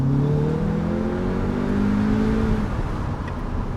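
An Audi S3 engine accelerates steadily, its rising drone strong and close, with no talking over it.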